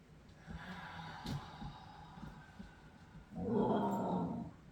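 A low, rumbling growl, apparently a dog's, comes up softly near the end of a quiet indoor qigong session and swells briefly before fading, with little else around it.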